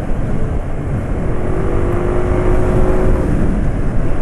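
A Yamaha NMAX scooter engine runs under strong throttle with a steady, loud drone and a rising whine, its knocking note growing harsher as power builds, continuous and close throughout.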